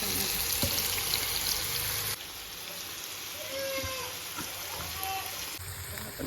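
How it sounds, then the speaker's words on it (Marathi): Tomatoes cooking in a pan for chicken sukka give a steady, close sizzle and frying hiss throughout, with faint clatter of stirring. "टोमॅटो मस्त शिजवून घ्यायचं. टाकूया आपण त्याच्यात शिजण्यासाठी."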